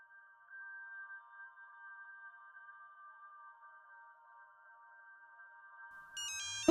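A phone rings during a call in a Marathi TV serial drama. It is a steady electronic ringback tone, held and fairly quiet, with a brief brighter chime just before it cuts off.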